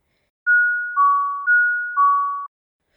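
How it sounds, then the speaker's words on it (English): An electronic doorbell chimes a two-tone ding-dong twice in a row, clear and alone against silence. "I heard the doorbell ring."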